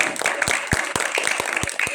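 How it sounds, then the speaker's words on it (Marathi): An audience applauds at a lecture gathering, with a dense, close wash of clapping punctuated by sharp, regular loud claps. "जोरदार टाळ्या"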